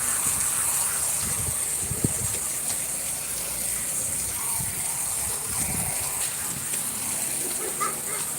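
Water sprays steadily onto a carpet being washed, a continuous hiss with a faint splashing texture, while people talk quietly in the background.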